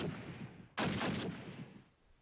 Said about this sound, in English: Shooting him through the mortar.